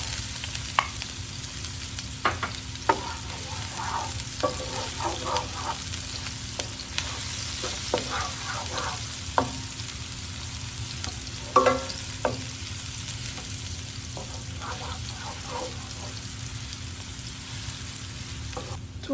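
Red onion frying in a pan over medium heat, a steady sizzle running throughout with scattered crackles and pops and occasional stirring scrapes, close and alone with no talk.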